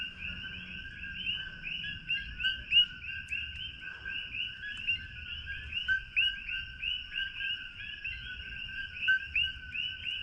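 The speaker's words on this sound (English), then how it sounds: "these frogs are really cool. They're super loud and they don't quite sound like our bullfrogs." Small tree frogs calling at night in Hilo, Hawaii, a dense overlapping chorus of repeated bright, bird-like chirps pulsing steadily at moderate distance over a low background hum.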